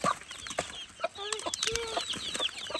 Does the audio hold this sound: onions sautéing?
no